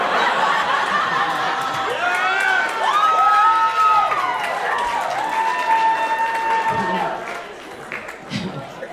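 Comedy club audience applauding and cheering with scattered laughter at a stand-up show, a dense sustained wash of clapping that thins out near the end while a voice speaks over it.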